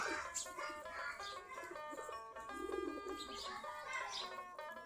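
A flock of domestic local pigeons kept in a loft coos softly, with low throaty coos and scattered chirps overlapping at moderate distance against a quiet background.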